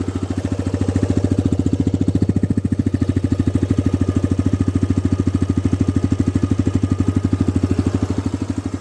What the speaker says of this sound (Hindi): ये आइडल साउंड है बाइक का